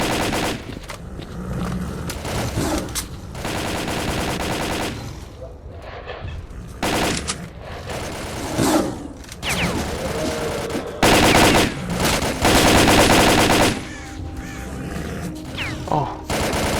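Gunfire in the shooter game S.T.A.L.K.E.R. Call of Pripyat during a finale firefight, dense bursts of automatic rifle fire and single shots overlapping almost continuously, loud and close, with brief gaps between volleys.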